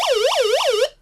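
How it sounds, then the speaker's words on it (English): A hand-crank emergency device's alarm wails in a rapid, looping electronic whoop, about four rising-and-falling sweeps in a second, loud and close, then stops sharply. "it also has an alarm that I pressed by mistake right here"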